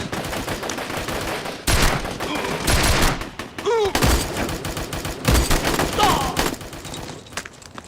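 Gunfire fills a battle scene, with dense overlapping bursts and sharp rifle shots, including sniper fire, cracking loudly and continuously. A voice speaks briefly amid the shooting.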